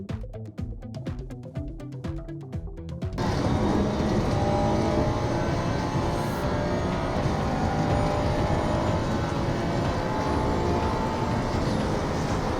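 Race car engine roaring loud and steady at Monza in a racing video game, a sustained high engine drone after a brief burst of shifting revs, no talk.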